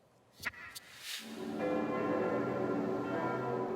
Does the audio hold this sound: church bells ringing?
yes